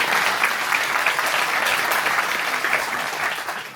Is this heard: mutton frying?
no